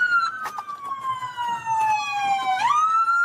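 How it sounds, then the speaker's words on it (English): A police car siren wails loudly and close, a single falling tone that sweeps back up near the end, with road noise underneath. "Turn off your sirens."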